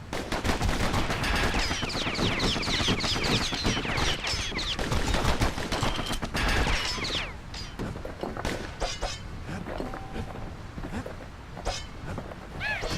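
Rapid gunfire from the Kid's guns in the action game Bastion, a dense run of fast shots that rattles on loudly for most of the stretch and then thins into scattered blasts and hits near the end.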